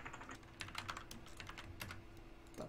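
Quick bursts of close-up key presses on a computer keyboard while gaming, irregular clacks over a faint steady hum, with no voices.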